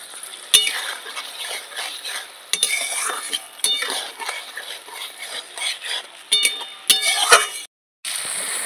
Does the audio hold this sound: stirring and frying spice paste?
yes